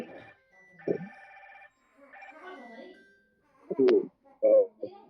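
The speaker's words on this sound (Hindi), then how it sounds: "फोन बार बार बज रहा है, सॉरी।" A mobile phone rings again and again during an online presentation, its electronic tone sounding in short bursts between stretches of a person speaking nearby.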